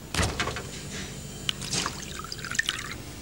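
Volvic water pours from a Volvic Fontaine dispenser, with a few quiet splashes and drips into a glass, soft and close, ending in scattered droplets.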